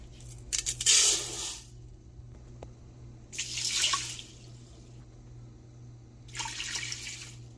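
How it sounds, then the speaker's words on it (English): Water pours into a rice cooker along with one cup of rice and two cups of water, in three separate splashing bursts against a low steady hum, with quiet gaps between pours. "add 1 cup of rice to my rice cooker to 2 cups of water"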